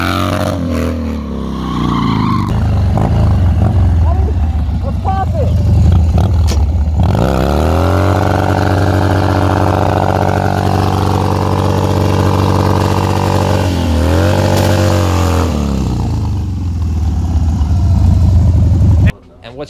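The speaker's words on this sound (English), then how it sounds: "2000 Dyna Super Glide. She's got the stock, 88 motor in it." A 2000 Harley-Davidson Dyna Super Glide stunt motorcycle with its stock 88 motor runs loud and close, its engine rising and falling through repeated revs with a steady rumbling idle between them.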